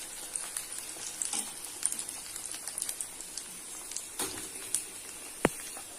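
Rice bondas frying in hot oil as they are turned one by one, with a soft continuous sizzle and scattered sharp pops and crackles, one louder near the end, no talk.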